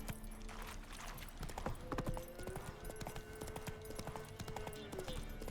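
Roach, a horse in a video game, clip-clops at a steady trot in dense rhythmic hoofbeats over an ambient music drone, with a long tonal note partway through.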